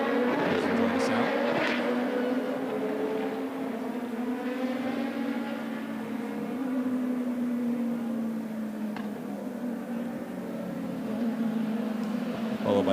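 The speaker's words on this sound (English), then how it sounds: "Now the cars are coming back." Honda racing cars drive past on a circuit at a racing fan event, their engines sustaining a loud, droning roar that swells and fades slightly over time, with a voice speaking faintly alongside.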